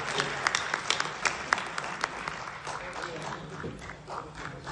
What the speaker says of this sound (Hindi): जरा जोरदार तालियां बजाकर